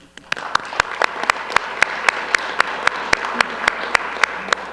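Applause at a town council meeting: a steady bed of clapping with sharp, regular individual claps standing out, moderately loud throughout.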